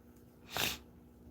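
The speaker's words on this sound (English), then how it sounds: "Sorry about the sniffle." A single short sniffle through the nose, a brief breathy burst lasting under half a second against a quiet background.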